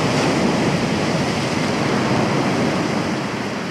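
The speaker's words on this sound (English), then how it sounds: "The big waves are dislodging my griplets now" Big waves crash steadily onto a beach at night during a fishing session, a loud, continuous roar of surf with no break across the whole stretch.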